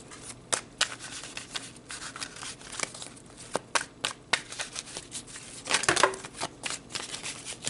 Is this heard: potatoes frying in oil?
no